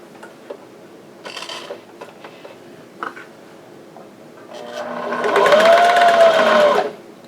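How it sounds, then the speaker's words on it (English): Sewing machine running a straight stitch around a fabric Christmas stocking, starting after a few soft clicks and handling noises and whirring steadily for about two seconds near the end. "I'm just going to do a stitch all the way around until it's sewn together."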